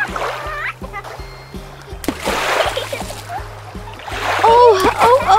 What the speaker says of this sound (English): It's fun to splash in the waves.